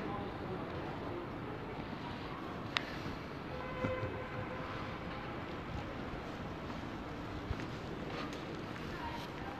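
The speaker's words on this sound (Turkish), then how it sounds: "Burası tren garı olmuş oluyor." Ambience inside Brussels Central railway station: a steady, fairly loud wash of hall noise with faint distant announcements or rail sounds and a few sharp clanks rising from the constant background.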